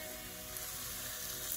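Browned pineapple sizzles while frying in a pan for Hawaii toast, a steady, moderately quiet crackling hiss with no talking.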